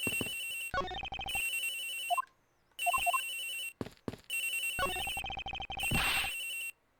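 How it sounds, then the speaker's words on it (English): Cell phone ringtone sounding from a locker in the Ace Attorney Investigations: Miles Edgeworth video game: loud repeated electronic ring bursts, broken by brief gaps and short interjecting game sound effects. "This has got to be the victim's cell phone."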